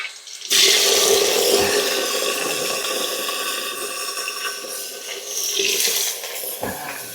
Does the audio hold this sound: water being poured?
yes